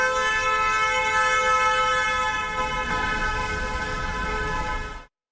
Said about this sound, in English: honking repeatedly